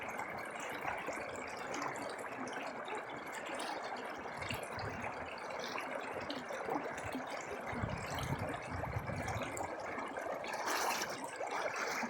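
River water flows steadily with a soft, continuous rushing and trickling, fairly faint and even throughout, with no voices.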